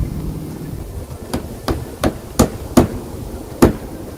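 Hammer strikes driving a galvanized nail through shed roof shingles into a wooden stud: six sharp, close blows at uneven intervals, the middle ones louder, over faint background noise.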